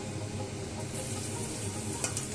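Cauliflower pakora batter frying in hot oil in a kadai gives off a dense, even sizzle, close and constant, with a small spatter near the end.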